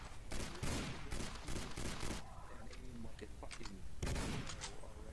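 Rapid bursts of gunfire from a Garry's Mod World War II roleplay battle, loud clustered volleys in the first two seconds and again near the end, with voices talking underneath.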